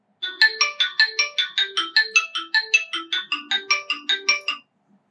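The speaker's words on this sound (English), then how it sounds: "if you tap on Find Phone, your smartphone will start ringing" A smartphone rings after a Find Phone tap on a Xiaomi Smart Band 10, sounding a fast run of about eighteen bright, evenly spaced chirping tones that stop abruptly, loud and alone against silence.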